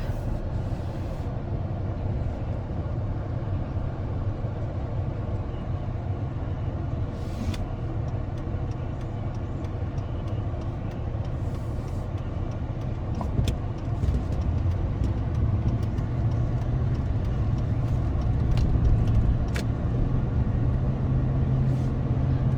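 A 2003 Chevy Silverado truck drives on the road, its steady engine and road rumble heard from inside the cab for over twenty seconds, with occasional small clicks and knocks and no talking.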